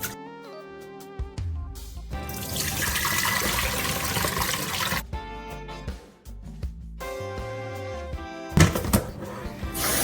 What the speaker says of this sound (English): I'm gonna wash the rice and rinse it.